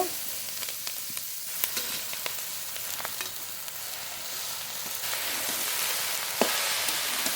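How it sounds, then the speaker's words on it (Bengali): Chopped jute leaves sizzling in a pan with onion and green chilli, a steady crackling fry with sharp spits and stirring scrapes, close and fairly quiet. "কুচিয়ে রাখা পাট শাক দিয়ে দেব"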